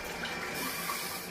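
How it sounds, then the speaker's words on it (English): Water runs steadily from a tap during a pug puppy's bath, a constant close hiss of flow with no break and no voices. "I just have to get a tiny bit of water just to rinse it"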